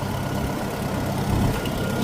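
Farmall 450 tractor engine running steadily nearby, a loud, low, rumbling idle with an even chugging texture and a slight swell near the end, no voices.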